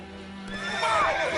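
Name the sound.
horse neighing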